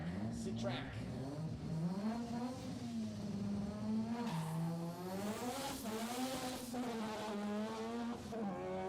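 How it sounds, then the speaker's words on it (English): Street-tire drag cars launch off the line at a billet drag racing event, engines revving hard with rising and falling pitch and a touch of wheel spin, loud and close under a commentator's talk. "These guys are getting the hang of how to get these street-tied cars off the line. Just a little bit of wheel spin"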